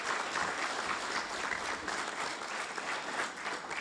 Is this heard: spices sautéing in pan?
no